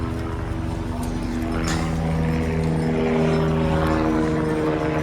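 A helicopter flies near Kedarnath, and its loud, even droning whir fills the whole stretch without a break, growing slightly stronger toward the end.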